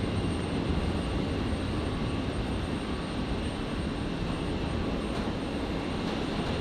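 An aircraft landing on runway 01 Left at Brisbane International Airport produces a steady, moderately distant engine roar that holds evenly throughout.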